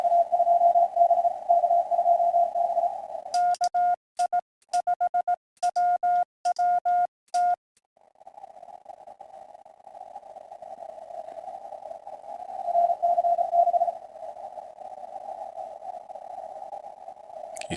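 Amateur radio tones from a RTTY-style station: a steady sustained beep, then a run of short keyed pulses, then the tone resumes and holds at moderate level with no voices.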